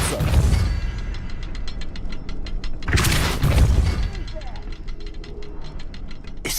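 A Depulso force spell fires in Hogwarts Legacy with loud, deep booming blasts, the first at the start and another around the middle, followed by rapid rhythmic clicking and a rising burst at the end.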